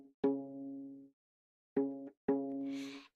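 A single musical note, written both as a sharp and as a flat, played three times as sustained tones: a long first note, then two shorter ones after a pause, fairly quiet.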